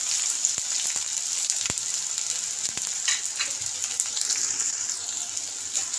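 Chopped onions fry in hot oil, giving a steady close sizzle and crackle that runs throughout, broken by a few scattered clicks and stirring scrapes, with no voices.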